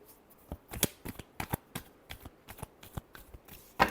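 Tarot cards being shuffled by hand, a quick series of crisp riffling bursts at a steady, slightly uneven rhythm, close and fairly quiet, ending in a louder final riffle.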